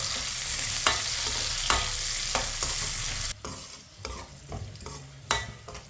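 Carrot halwa with finely chopped pistachios cooks in a pan over a medium flame, with a steady soft sizzle broken by repeated scraping stir strokes at irregular intervals, close and clear, no talking.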